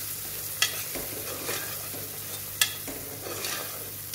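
Ground spices with coriander powder and garam masala sautéing in a pan, a steady soft sizzle with occasional sharp clicks of a spoon against the pan and light stirring scrapes.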